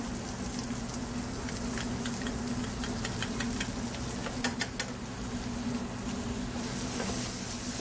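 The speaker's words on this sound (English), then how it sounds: "you can hear there's a nice sizzle, a nice hot pan will make all the difference" Spanish white onions and garlic sizzle steadily in a hot pan for paella Valenciana, a dense crackle with scattered sharper pops running throughout.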